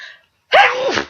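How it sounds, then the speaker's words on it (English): A single loud sneeze bursts out after a faint breathy intake, sharp and close, with a rising and falling voiced tail lasting about half a second. "I thought I was gonna sneeze"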